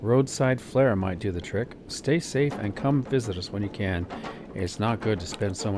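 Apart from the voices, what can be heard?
None of the usual background noises is heard.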